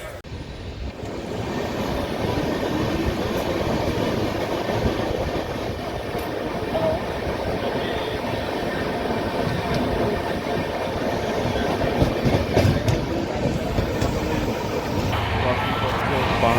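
A Jan Shatabdi Express, Bhubaneswar to Howrah train 12074, rolls along the rails with a steady, loud rumble and rattle from inside the coach, holding constant throughout with a few clanks near the end.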